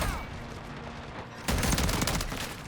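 Rapid Riveter gunfire in Modern Warfare 3, fired from the hip in multiplayer, comes as a dense close burst of shots that swells louder partway through, with no talk.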